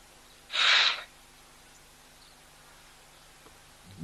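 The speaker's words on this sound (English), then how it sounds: "A bit of sneezing, I think, from the one on the right." A bull giraffe at a waterhole gives a single short, breathy sneeze or snort, sharp and fairly close, standing alone against a quiet outdoor background.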